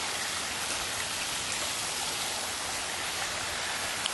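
Flowing water from a garden water feature along a path, a steady broadband rush like a stream or small cascade, continuous and fairly loud throughout with no voices.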